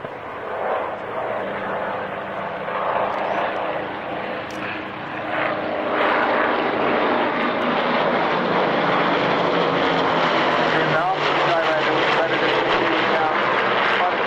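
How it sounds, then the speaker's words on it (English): Three large propeller aircraft drone loudly overhead at an airshow, the engine roar building and swelling as they pass, with a voice faintly underneath. "It's an enormous aeroplane, this. Have a look and have a listen as these 3 come by."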